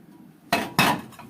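A pan is set down on a kitchen grill, two sharp metallic clanks about a quarter second apart, close and clear against a quiet room.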